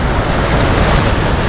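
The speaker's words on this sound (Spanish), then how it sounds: "Va rebosando agua por todos lados." Water surges and overflows at the Cascajales spring, a loud, steady broadband rush filling the whole clip without pause, close to the microphone with some wind buffeting.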